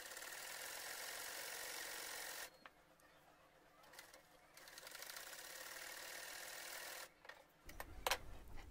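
A sewing machine stitches a half-inch folded hem along the bottom edge of palazzo pants, its steady mechanical whir running in bursts and pausing briefly between runs, close and moderately loud.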